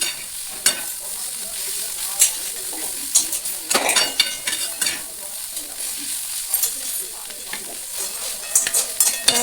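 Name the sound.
stirring kardai greens frying in oil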